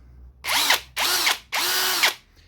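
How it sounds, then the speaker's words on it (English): Three short, loud bursts of a Parkside cordless hedge trimmer's whirring motor, each spinning up and cutting off under its automatic brake with an odd sound, brief pauses between. "this automatic brake has some weird sound"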